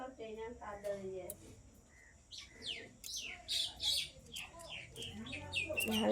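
A pet talking bird chirps and calls in bright, repeated tweets and warbles close by, mixed with short human speech and a low background hum.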